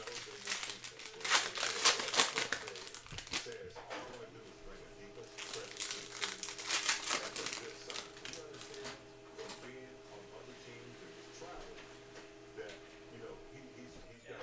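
Crinkly plastic wrappers of 2020-21 Panini Prizm multi-pack cello basketball card packs tear and crumple in bursts, loudest early and then softer, with a faint steady electronic hum underneath.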